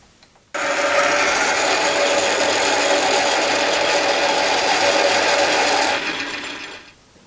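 A metal lathe turns a bolt held short in the chuck and backed by a live center while threads are cut, giving a steady, loud mechanical whir that starts abruptly, runs evenly for about five seconds, then winds down.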